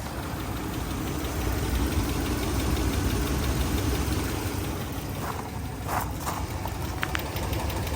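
A RAM 1500 engine idles steadily with a faint, rapid injector-like ticking under a broadband rumble, heard close up near the wheel well. A few soft knocks stand out toward the end.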